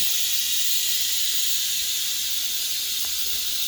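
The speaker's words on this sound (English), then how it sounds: "make sure you don't put it right underneath your cabinet, because that is steam." Steady, loud hiss of steam escaping from a pot of sticky rice as it cooks, constant and unbroken for the whole stretch.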